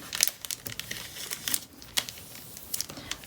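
Paper being folded by hand to make a photo bookmark, with close, quiet crinkles and a few sharper creasing rustles in an irregular rhythm.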